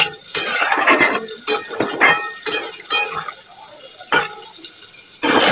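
Water is poured into a cooking pot, splashing close and fairly loud, with metallic clinks of the pot and utensil between pours.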